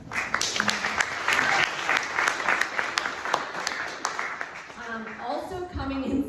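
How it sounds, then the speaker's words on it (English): A live audience at a hackathon demo event breaks into sustained applause for a team, dense steady clapping filling the room, with voices talking over it near the end. "And also, applause for the team."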